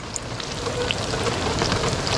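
Steady rain falling at an island campsite during a solo truck-camping trip, a dense close hiss of drops pattering on surfaces that runs without a break.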